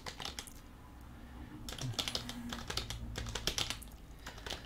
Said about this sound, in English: I don't like typing all that.